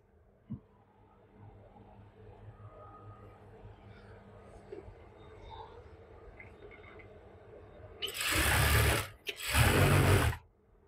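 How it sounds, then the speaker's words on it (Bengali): A sewing machine stitches the 1-inch hem of a palazzo trouser leg, running in two loud bursts near the end, each a couple of seconds long with a brief pause between, after a quiet stretch of faint room noise. "তারপর এটা 1 ইঞ্চি পরিমাণে সেলাই প্লাস রেখে এটা সেলাই দিয়ে নেব"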